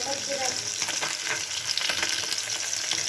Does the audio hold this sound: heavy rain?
no